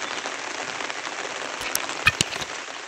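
Heavy rain with strong wind in Aceh Singkil makes a dense, steady hiss throughout, broken near the end by a few sharp knocks or drops.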